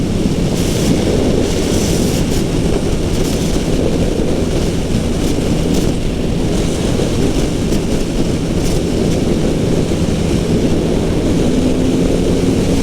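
Steady, loud roar of a 2022 Triumph Rocket 3R motorcycle cruising at nearly 100 mph, dominated by rushing wind buffeting and engine drone that stays constant throughout with no pauses.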